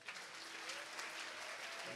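Church congregation applauding for about two seconds, a dense, continuous clapping from a crowd in a reverberant hall, fairly distant and even.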